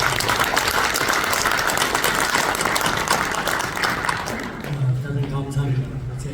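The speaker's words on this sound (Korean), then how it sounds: "격려에 또 고무에 그래서 큰 박수를 한번" Audience applause at a breakfast seminar, a dense wash of clapping filling most of the stretch before thinning out, with a voice starting to speak near the end.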